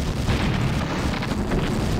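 A deep, rumbling explosion rolls on steadily as the Iron Curtain device is destroyed in the real-time strategy game Command & Conquer Red Alert, loud and filling the whole moment.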